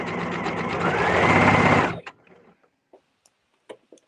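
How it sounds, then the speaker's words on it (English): A sewing machine basting the sleeves of a DVF-style wrap dress sews in a steady, close whirring run for about two seconds, then stops, leaving a few faint clicks. "I'm just going to baste together my sleeves again."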